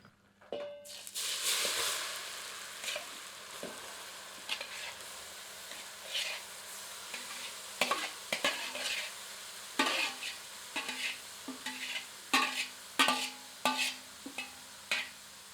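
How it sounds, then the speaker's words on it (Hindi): Grated carrot frying in hot ghee, stirred with a spoon for gajar ka halwa: a steady sizzle broken by repeated scraping strokes that grow more frequent and pronounced toward the end, close and clear with no talking. "अब घी में ग्रेट की हुई गाजर सम्मिलित करते हैं।"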